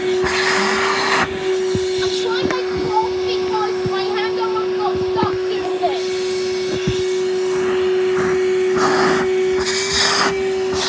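A Henry Hoover vacuum cleaner runs on high mode with a steady, loud motor whine held throughout, while people talk over it and brief knocks and rustles pop up now and then.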